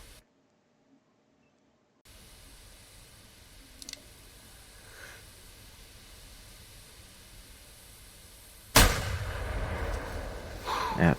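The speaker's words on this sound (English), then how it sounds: "let's go ahead and take the shot" A rifle shot at a deer in the hunting game theHunter Classic: after quiet forest ambience, one sudden, loud blast cracks out near the end, followed by a sustained rumbling tail.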